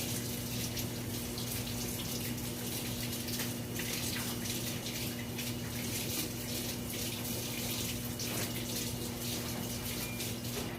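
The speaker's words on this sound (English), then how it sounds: "Warm water dampen my hand." Warm water runs steadily from a kitchen tap onto a hand, a continuous close splashing hiss with a faint constant hum beneath, heard alone.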